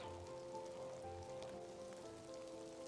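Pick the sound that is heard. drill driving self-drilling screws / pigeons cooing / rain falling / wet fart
rain falling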